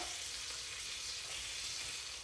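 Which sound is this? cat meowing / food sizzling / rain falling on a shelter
food sizzling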